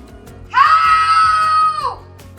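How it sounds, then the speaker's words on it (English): A single sustained, loud scream rises sharply and holds steady for over a second before trailing off, given as a person shouting for help during a swim drowning-prevention drill. "floating on your back and screaming for help as loud as you can"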